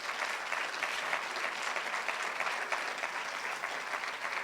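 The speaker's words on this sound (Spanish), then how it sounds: "Denle un aplauso fuerte al Señor." Church congregation applauding steadily during a Spanish-language Christian sermon, a dense, even wash of clapping throughout with no speech over it.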